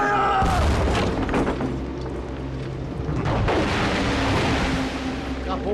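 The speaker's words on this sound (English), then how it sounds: "Cannon five! Prepare to fire!" A ship's cannon fires with a deep, heavy boom, followed by rumbling reverberation and a second blast, loud and close amid shouting voices.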